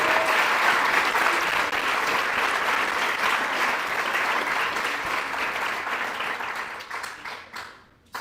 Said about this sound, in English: So can you guys give yourselves a round of applause?